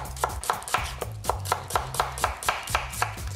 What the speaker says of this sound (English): Secret of slicing vegetables for braising is not getting too thin.